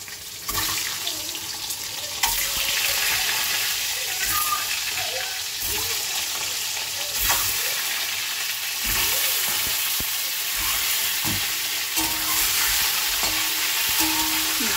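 Eggs frying in a kadai with steady oily sizzling and crackling throughout, close by, with occasional clinks and some watery background noise, no voices.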